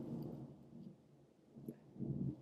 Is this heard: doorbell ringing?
no